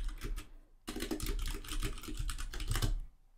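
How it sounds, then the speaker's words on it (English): Rapid, steady typing on a mechanical keyboard with Cherry MX Brown tactile switches, close and crisp, a dense run of clacks after a brief pause, with no talk. "You hear me typing?"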